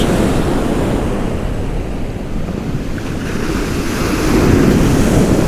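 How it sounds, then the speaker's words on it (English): Waves roll in and crash onto coastal rocks at Kilnsea on England's east coast, a loud, steady surf rumble that builds toward the end, with wind noise rumbling across the microphone. "watch them lovely waves coming in, smashing these rocks"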